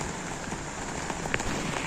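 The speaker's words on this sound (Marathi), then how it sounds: "पाऊस इलो आहे." Early-season rain pours steadily over a Devgad village yard, a continuous close hiss of falling drops with a few sharper splatters, no one speaking.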